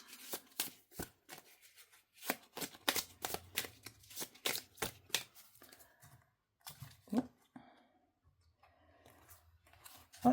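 A gold-edged Tarot of the Sorceress deck is shuffled by hand in quick bursts of riffling card flicks, pausing, then a few softer slides and taps as a card is drawn, close and quiet.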